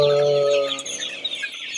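Sonali chickens cluck close by in a poultry shed of about 1000 birds, a drawn-out call at the start giving way to busy overlapping clucks and chatter from the flock.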